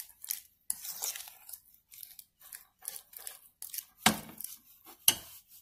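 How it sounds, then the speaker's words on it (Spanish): Dough ingredients being stirred and mixed in a bowl for hot rolls make intermittent scraping, clicking strokes, close and fairly quiet with short pauses between them. "Y comenzamos a mover esto para mezclar todo"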